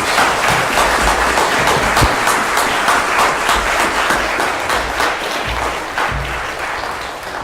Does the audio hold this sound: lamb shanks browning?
no